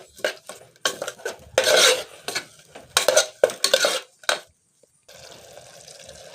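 Tomato paste being stirred and fried in a pan for a simple chicken gravy, with bursts of spoon scraping and stirring that start and stop over a few seconds, then a softer steady sizzle at the end.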